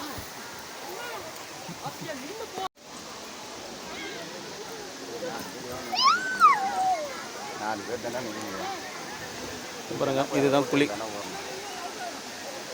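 A steady rushing hiss of water carries through at Kovai Kutralam waterfall, where the flow is running low, with someone talking and other voices nearby over the constant wash.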